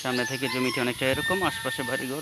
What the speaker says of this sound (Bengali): এই যে মুরগির আওয়াজ শুনতে পাচ্ছেন হয়তো বা।